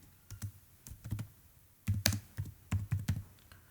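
Typing on a computer keyboard, short bursts of crisp key clicks in uneven clusters, close and clear with no talking.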